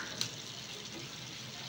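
Prawns for a coconut prawn malai curry sauté in a pan with a little water and garam masala, giving a soft, steady, faint sizzling hiss with one brief tick near the start.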